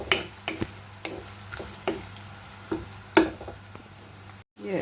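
A spoon scrapes and clacks at irregular intervals while masala sizzles softly in a pan over medium flame during a beef dry roast, and the close, sharp stirring knocks stand out over a faint, steady frying hiss.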